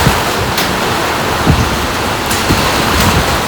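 Hail pours down during a sudden storm, making a dense, loud, steady roar with a few sharper impacts poking through now and then.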